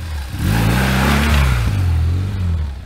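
A dirt bike engine revs hard through an off-road pivot slide on a dirt track, its loud, close mid-pitched drone swelling and dipping in pitch over about three seconds with no talking.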